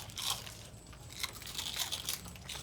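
Farm animals crunching on feed in a small pen, a steady run of close, crisp bites and chews with brief louder bursts, no voices over it.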